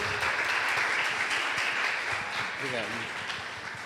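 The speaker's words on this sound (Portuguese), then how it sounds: "Uma grande salva de palmas para Chico Brasil." A seminar audience gives warm applause as a guest speaker is introduced, a sustained, even sheet of clapping from many people with a brief voice surfacing near the end.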